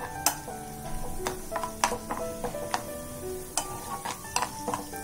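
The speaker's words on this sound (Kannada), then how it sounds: "ಲೈಟ್ ಬ್ರೌನ್ ಆಗೋವರೆಗೂ ಗೋಡಂಬಿನ ಕರ್ಕೋಬೇಕು." Cashews fry in ghee on low flame with a soft, steady sizzle, punctuated by sharp clicks and scrapes of a spoon stirring against the pan, close and fairly quiet.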